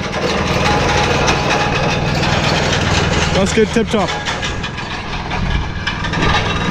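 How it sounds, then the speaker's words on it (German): A small lawn mower tractor on a farm runs with a steady engine drone throughout, close and fairly loud, while someone speaks briefly over it. "So, und hier der wichtigste Trecker auf dem ganzen Hof."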